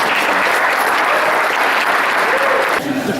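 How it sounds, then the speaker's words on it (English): Round of applause from an audience at a music advocacy appreciation evening in a strings and music store, dense sustained clapping at full volume with faint crowd murmur. "Warehouse 21, round of applause, please"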